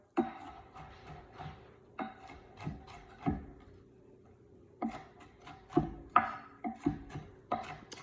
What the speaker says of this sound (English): Let's chop up a little bit more.